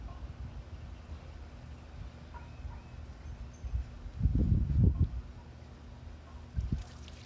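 Water is poured onto freshly packed soil around a newly planted grape vine, giving a short splashing gurgle midway and a brief second pour near the end over quiet outdoor background.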